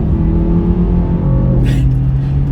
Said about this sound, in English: Put it in sport mode here, and the exhaust opens up.